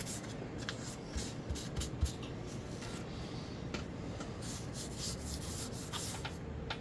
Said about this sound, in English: Now I'm using a brand new fresh piece of 600 grit.